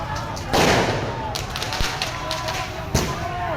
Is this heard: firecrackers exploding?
yes